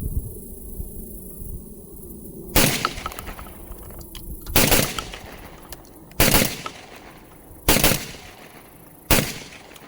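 A Beretta 1301 tactical shotgun fires five loud, sharp blasts spaced about two seconds apart outdoors, each report ringing briefly over a low background hum.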